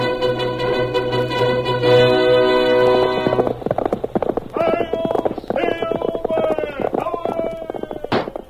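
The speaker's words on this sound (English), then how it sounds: "A fiery horse with the speed of light, a cloud of dust, and a hearty hi-yo Silver, the Lone Ranger." Horse hoofbeats in an old Lone Ranger radio drama intro, with a sustained musical chord at first giving way to rapid galloping clip-clops, loud and close, ending on a faint neigh.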